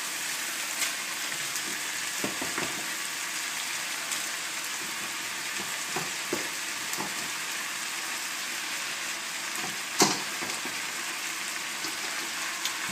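Cooked rice frying in a pan for Cantonese fried rice, a faint steady sizzle with occasional light clicks of stirring.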